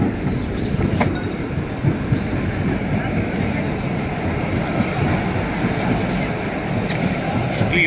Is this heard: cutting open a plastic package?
no